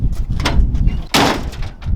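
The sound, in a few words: heavy work truck door closing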